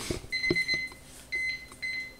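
An alarm sounds a few high, clean electronic beeps in short bursts at the end of a wheat beer homebrew boil, with faint clatter underneath.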